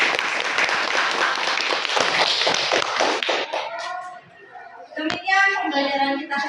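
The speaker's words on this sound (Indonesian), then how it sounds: "Beri tepuk tangan buat kita semua." A classroom of students applauds together at the end of a lesson, a dense burst of clapping for about three seconds that fades, followed by children's voices and meow-like squeals.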